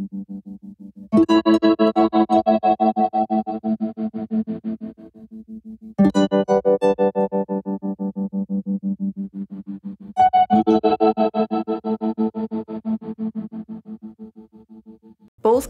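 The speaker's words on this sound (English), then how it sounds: "The spring reverb mode on Context has tremolo" A Context effects pedal in spring reverb mode with tremolo, processing three loud sustained chords that pulse rapidly and steadily, each one decaying into a reverberant tail before the next is struck.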